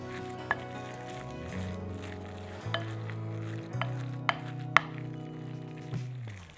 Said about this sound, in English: Use a wooden spoon, and you're just mixing until the flour disappears and you have a batter.